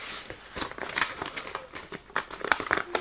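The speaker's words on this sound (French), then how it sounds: "Je vais plier les fameux billets de 50." Paper banknotes of 50 being folded by hand, giving close, crisp crinkling and rustling in quick irregular bursts with no talking.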